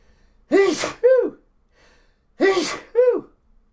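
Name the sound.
sneeze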